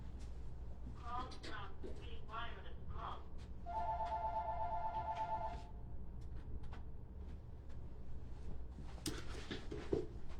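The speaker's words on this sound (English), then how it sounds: "I got a phone ringing and they keep calling back." Telephone rings in a town council meeting room, a repeated electronic ringtone heard for a couple of seconds amid faint room noise and brief speech.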